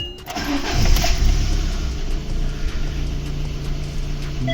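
A VAZ 2113 car engine, just started and settling, keeps running steadily nearby at idle with a constant low hum and no talking.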